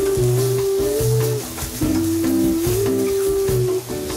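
Shrimp, mussels, fish and squid sizzle in a hot pan for a French seafood gratin thermidor, a steady loud frying hiss with stirring, no talk.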